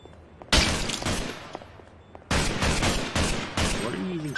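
Bursts of gunfire in the video game Garry's Mod, loud close volleys starting abruptly and recurring in several rapid fusillades, with a brief voice under the shooting.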